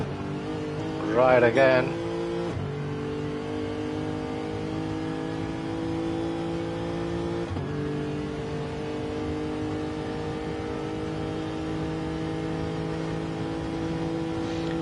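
A Lexus RC F race car in a racing video game at Le Mans, its engine droning steadily down the Mulsanne straight with a brief rev burst and gear shifts, under a commentator's voice.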